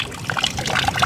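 Water trickles and splashes continuously from a ram pump feeding a goat pasture, a steady close liquid babble with no talk.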